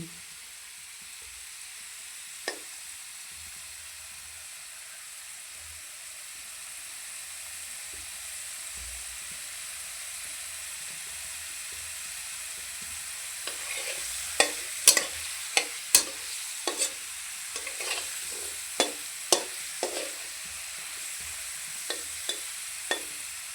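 Cubed potatoes frying in a pan, a soft continuous sizzle with occasional sharp crackles and pops that grow more frequent toward the end, with no talking.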